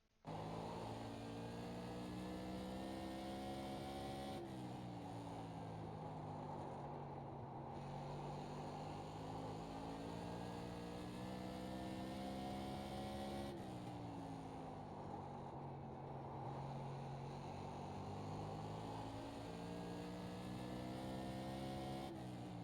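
A Tour Modified race car in the iRacing sim screams through a qualifying lap at Thompson, a loud, steady in-cockpit engine drone that rises and falls in pitch as it accelerates and lifts through the corners, with no talk.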